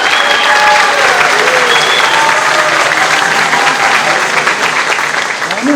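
Sustained applause from an audience at a Brazilian round-table panel discussion, a dense, steady wash of clapping that fills the whole stretch at close range with little variation.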